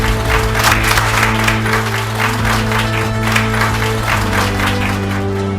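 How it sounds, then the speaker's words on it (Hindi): Enthusiastic audience applause fills an Indian debate-show set as a senior BJP leader and advocate is welcomed on stage, steady dense clapping sustained throughout with a low musical hum underneath and no talk. "एक बार जोरदार तालियों से अभिनंदन करें"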